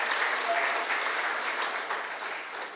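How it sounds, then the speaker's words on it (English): An audience applauds for Professor Pat Utomi at an Innovention Series event, a steady wash of many hands clapping that holds evenly throughout and tapers slightly near the end. "Please, a round of applause for Professor Pat Utomi."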